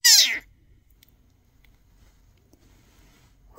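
A tiny black kitten lets out one loud, close, high meow at the start, followed by near silence and a faint sound at the very end.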